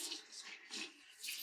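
Hot water runs from a tap over a paint brush, a steady hiss of splashing water that swells and eases as the brush is moved under the stream.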